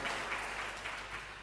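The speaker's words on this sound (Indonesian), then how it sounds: "Boleh minta tepuk tangan sekali lagi yang meriah" An audience at an Umrah pilgrims' send-off ceremony applauds, a soft, steady wash of clapping heard from a distance, faint and with no talking.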